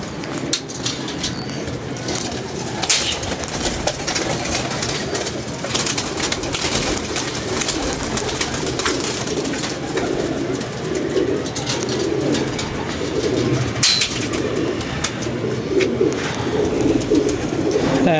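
A flock of kept pigeons coos steadily and close by, with a dense murmur of overlapping calls over a constant background hum and occasional sharp knocks.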